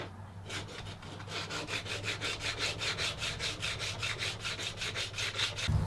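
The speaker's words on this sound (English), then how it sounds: "I'll just finish up with a little bit more hand sanding." A wooden tablet stand is hand sanded with steady back-and-forth strokes, a rhythmic rasping scrape repeating about three times per second, close and moderately loud over a low background hum.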